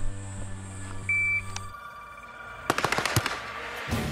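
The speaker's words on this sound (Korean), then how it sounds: "드디어 시작된 사격 훈련" A counter-terror special mission unit fires during a shooting drill, a quick string of about eight sharp gunshots in a rapid rhythm, with a lone crack at the end, following a steady tone and a beep.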